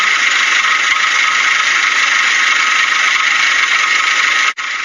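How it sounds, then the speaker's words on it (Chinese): A car engine that burns a lot of oil and has a knocking, clattering fault, left unfixed after a repair done without dismantling the engine, runs with a loud, steady, close mechanical clatter that cuts out briefly near the end. "嘎啦嘎啦的异响声，还伴随着烧机油非常的严重。"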